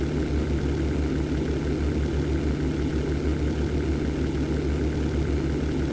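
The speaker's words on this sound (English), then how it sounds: "the engine is already overheating" Steady, loud drone of an overheating WWII fighter engine in the flight sim European Air War, a continuous low rumble with no breaks and no voices.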